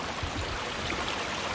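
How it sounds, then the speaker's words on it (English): A stream runs among tall trees outdoors, giving a steady, full rush of flowing water that fills the short stretch evenly at close to moderate range, alone without talk. "And right now I'm also listening to the water running."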